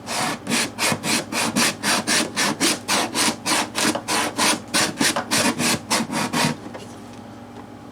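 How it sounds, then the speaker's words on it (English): Sandpaper of 120 grit rubs back and forth across guitar wood in a steady rhythm of about twenty close, scratchy strokes, then stops. "I'll sand it with 120 grit sandpaper."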